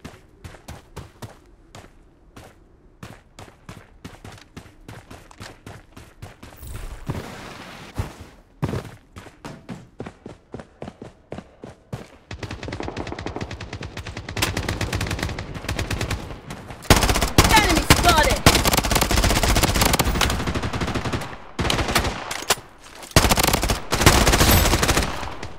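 Gunfire in Project Bloodstrike: scattered sharp single shots and short bursts at first, building into sustained loud automatic fire in the later half, with brief gaps between volleys.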